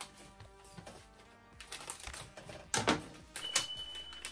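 Scissors snip open a plastic Lego Marvel Studios Disney+ series blind bag, giving close crinkling rustles and a few sharp cutting bursts that grow louder toward the end.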